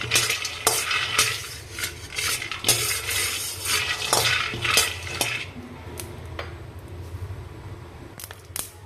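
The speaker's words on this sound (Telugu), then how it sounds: "చూసారా, పల్లీలు బాగా ఫ్రై అయిపోయాయి కదా." Peanuts frying in a kadai over a medium flame, with a steady close sizzle under repeated sharp metallic clinks and scrapes of stirring that thin out toward the end.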